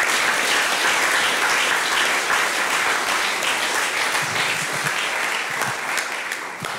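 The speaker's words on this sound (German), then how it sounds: "Und das ist auch nochmal, glaube ich, ein extra Applaus" Sustained applause from a large audience at a German talk event marking ten years of post-growth economics, a dense steady wash of clapping that tapers slightly toward the end.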